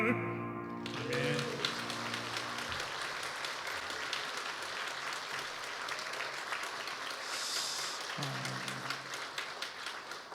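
A church congregation claps after a sung hymn, a long steady spread of applause following the song's final notes, with voices and a brief sustained tone appearing partway through.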